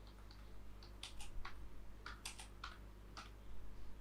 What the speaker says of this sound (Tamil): நான் இப்போ டைப் பண்ணி காட்டுறேன்.